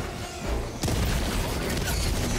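Grenade explosion in Helldivers 2: a sudden loud blast breaks in under a second into the clip, followed by sustained rumbling gunfire and debris noise.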